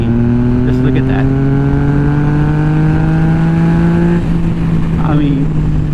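Yamaha MT-09 SP motorcycle (2021) with an ECH flash accelerating hard in fifth gear from around 3,000 RPM, its engine drone rising steadily and loudly in pitch for several seconds before easing off, with wind noise throughout.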